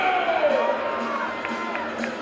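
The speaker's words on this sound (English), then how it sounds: "Broncos fans, cheer them on in 3, 2, 1, now!" Broncos fans in a crowd cheer on a race, a broad, steady roar of voices filling the whole stretch, with a few sharper shouts poking out near the end.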